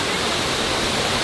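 A waterfall in a Thai forest roars as a steady, loud wash of falling water, filling the short moment with no talk.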